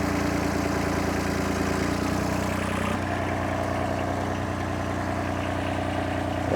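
A tractor engine runs steadily with a constant low droning hum, close by and unchanging, no voices.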